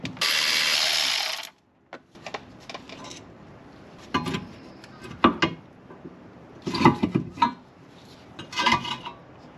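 Ratchet wrench working on a Honda rear disc brake caliper and bracket: an opening burst of loud hiss, then several short clicking ratchet runs and metallic clanks at irregular intervals, close up and without talk.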